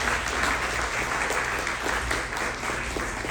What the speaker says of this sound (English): please give a round of applause to our Consul General